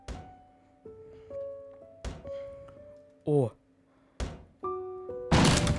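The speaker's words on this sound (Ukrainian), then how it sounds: "Вибив двері з ноги." A door kicked in within the horror game Fears to Fathom: one loud, sharp impact burst near the end, following game music tones and a pair of distinct thuds.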